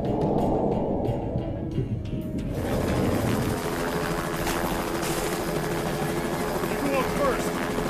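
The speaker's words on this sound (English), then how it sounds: "Send 2 more helicopters, fast." Helicopters fly in an action horror movie scene, a dense rotor and engine roar that swells into a loud, steady drone mixed with effects.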